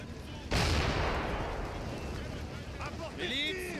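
Artillery fire in Napoleon: Total War during the Battle of Arcole: a single heavy cannon boom that rolls into a long rumbling decay, with a voice briefly heard over the tail.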